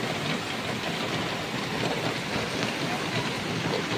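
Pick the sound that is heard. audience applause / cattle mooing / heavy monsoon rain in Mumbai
heavy monsoon rain in Mumbai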